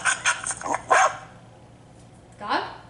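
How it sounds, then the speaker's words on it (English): A recorded dog barking, played as an animal sound guessing game: a quick run of sharp barks in the first second, a pause, then one more bark, loud and clear with no other voices. "Dog? Correct."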